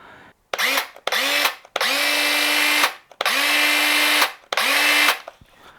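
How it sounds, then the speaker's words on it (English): A Porter-Cable 20V cordless circular saw with a 5.5-inch blade is triggered in several short bursts, each spinning up to a rising whine and winding down, heard up close with brief silences between. "Alright, this is the circular saw."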